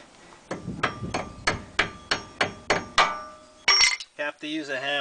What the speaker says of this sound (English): you have to use a hammer.